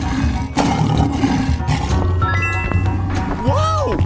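A lion's roar in a 3D cartoon animal slide game: a loud, raspy bellow over a busy backdrop of game sound effects, ending with a chiming, sliding tone.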